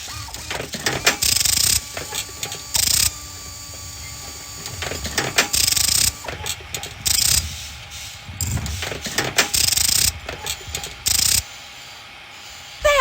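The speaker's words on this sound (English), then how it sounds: "it's time to use that socket wrench again. Now just tighten up that new fan belt" A video game socket wrench ratchets in repeated bursts of clicking while tightening a new fan belt in a garage, loud close clicks separated by brief quieter pauses.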